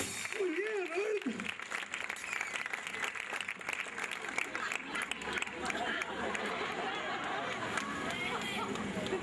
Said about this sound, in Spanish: Fuerte aplauso para Roberto y fuerte aplauso para despedir a